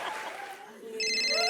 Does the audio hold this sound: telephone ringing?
yes